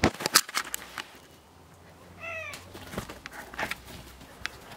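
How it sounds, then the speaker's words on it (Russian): Kittens meowing, one clear short meow in the middle among close shuffling, tapping and handling noises, with scattered clicks before and after. "Котята, ну котята."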